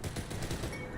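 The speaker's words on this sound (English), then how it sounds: "They're shooting at me now?" Sustained gunfire from a street shootout in Cyberpunk 2077's Night City, a dense, continuous clatter of rapid shots at steady loudness for the whole second, with no talking.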